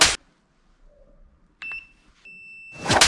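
A steady electronic multimeter continuity buzzer beep sounds twice, briefly and then longer, with soft clicks and rustling around it, while checking a Mercedes KE-Jetronic fuel injection system.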